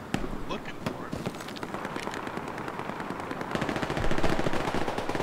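A machine gun in the World War II shooter Hell Let Loose on Omaha Beach, rattling off dense, rapid automatic bursts with other gunfire around, loud and continuous, intensifying toward the end.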